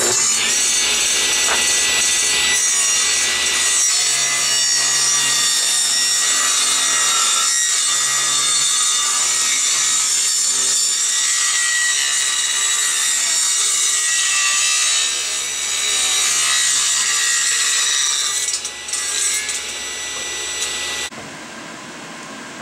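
A table saw rips wooden boards to width for a wood-burning forge build: a loud, continuous cutting whine with a low motor hum beneath, running steadily for about twenty seconds before abruptly cutting off.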